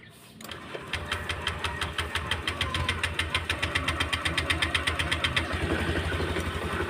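A Honda Click 125 scooter, hard to start and missing its push button and brake switch, settles into a steady close idle with a rapid even ticking pulse after starting.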